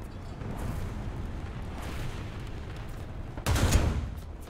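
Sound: tank cannon gunfire in War Thunder video game

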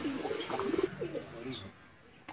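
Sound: Sialkoti pigeons cooing

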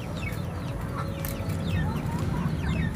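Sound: chickens clucking

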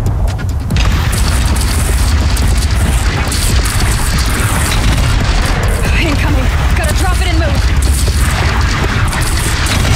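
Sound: missile explosion in video game Horizon Zero Dawn

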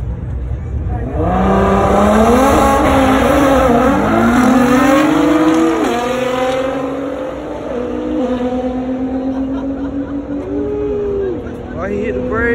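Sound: race cars racing and braking at Race Wars, including a McLaren

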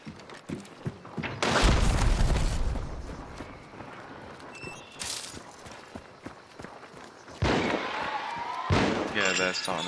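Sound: gunfire in the video game Hunt: Showdown

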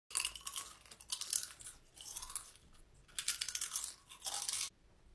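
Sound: loud chewing and crunching of chips

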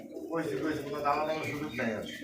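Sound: pigeons cooing at a pigeon farm

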